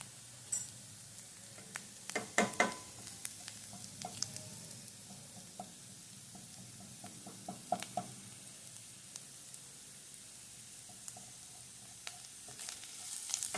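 Turmeric powder sizzles with cauliflower in a hot pan for a cauliflower masala thoran, a steady quiet frying hiss broken by scattered knocks and a few louder crackles, with no voices.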